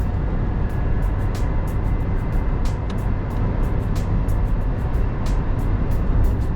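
A 2020 Suzuki Jimny's engine held around 3,000 RPM while driving at night, a steady loud drone with road rumble from inside the cabin and faint ticking clicks.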